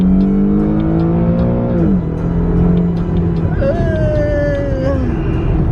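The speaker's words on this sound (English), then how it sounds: "I do like that red line though, 7500 high revving VQ37HR" An Infiniti Q50's VQ37HR V6 engine revving hard toward its 7500 rpm redline, pitch climbing steadily, dropping as gears change, then climbing again; loud and close, as heard from inside the cabin.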